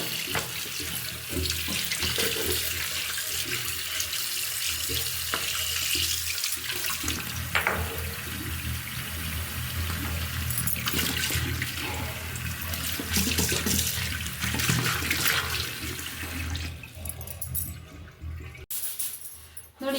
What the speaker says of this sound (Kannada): ಫಸ್ಟ್ ನಾನು ಇದನ್ನು ತೊಳ್ಕೊಳ್ತೀನಿ ಬಚ್ಚಲಲ್ಲಿ ಹಾಕಿದ್ದಾರೆ ಅಂತ ಅಂದ್ಕೋಬೇಡಿ ಸಿಂಕು ನೀಟಾಗಿದೆ